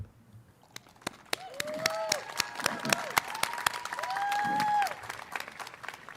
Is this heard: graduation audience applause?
yes